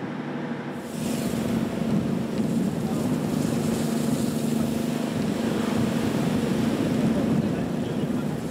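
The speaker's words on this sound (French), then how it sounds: "il fait mauvais. Il y a un gros vent d'est." Strong east wind roars over open water in bad weather alongside a steady boat engine drone, loud and constant, buffeting the microphone throughout.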